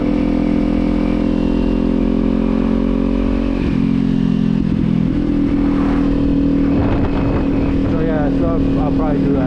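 A Kawasaki Z400 motorcycle exhaust rumbles steadily and loud nearby, its tone shifting partway through as the revs change, with a voice talking over it.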